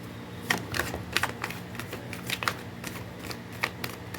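Tarot cards shuffled by hand in a quiet room, a string of soft, quick papery riffles and flicks coming close and fairly faint over several seconds.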